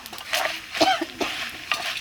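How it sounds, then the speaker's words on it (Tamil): Dry spices including coriander seeds, dried chillies, cloves, cardamom and fennel crackle and rattle as they're stirred in a hot clay pot, with soft scraping and light sizzling in short bursts. "மல்லியும் வத்தலும் கொஞ்சம் வறுப்படட்டும்"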